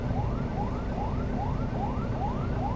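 An ambulance siren wails at a roadside accident on a road near Batu, a repeating rising yelp cycling steadily over a constant rumble of traffic, moderately loud.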